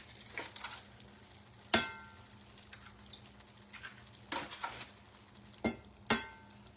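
Food stirred and cooked in a hot pan, a soft steady sizzle broken by several sharp metallic clinks and scrapes of a utensil against the pan, close and fairly quiet, with no talking.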